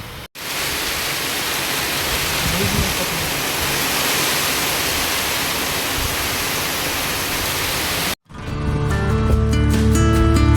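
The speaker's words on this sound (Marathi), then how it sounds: "तो पण पाऊस आला" Heavy rain pours in a dense, steady hiss, close and loud, then cuts off abruptly into a burst of music.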